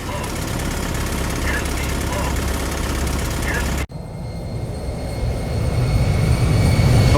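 Boeing 737 engines running in the X-Plane flight simulator game, a steady broad roar with a brief cut partway through, while someone talks over it.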